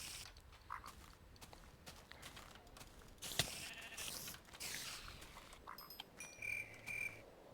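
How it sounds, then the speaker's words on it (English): A sheep bleats in the blocky Minecraft Tekkit video game world, several short, faint calls scattered over a quiet, slightly noisy background, with no voices. "So there is a sheep watching the entrance."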